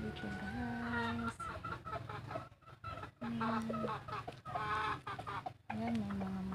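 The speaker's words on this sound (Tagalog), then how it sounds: "Ayan, may mga manok din." Farmyard chickens cluck and bawk steadily on a morning walk outdoors, a rooster-like call rising briefly now and then, moderately close with faint background noise and no clear talking.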